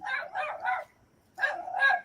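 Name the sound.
dog barking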